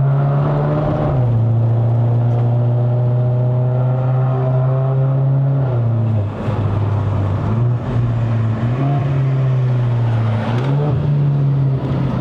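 MK5 Volkswagen Polo GTI engine heard from inside the car on a mountain road run, loud steady engine drone climbing in pitch, then dipping at gear shifts around the middle and end, no talking.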